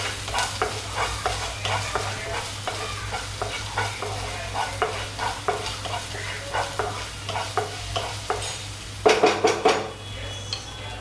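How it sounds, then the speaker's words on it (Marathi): Ginger-garlic paste and green chillies fry in a pan for paneer chilli, a steady sizzle broken by repeated scraping stirs, with a louder burst of sizzling near the end. "आता फर्स्ट आपल्याला आलं लसूणची पेस्ट भाजून घ्यायची आणि मिरची"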